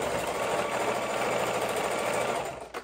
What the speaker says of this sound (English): we're going to sew it near off the leather and back on.